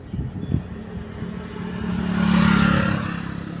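Vehicles on the Durgapur Expressway in India: some light clatter at first, then a car's engine and tyre noise swell as it passes fairly close and fade away afterwards.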